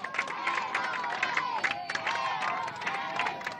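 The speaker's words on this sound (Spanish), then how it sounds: "El aplauso también de los ex alumnos" Former primary-school classmates at a rural school in Camposanto clap and cheer as a small outdoor crowd, the sound moderately loud with bursts of voices mixed in.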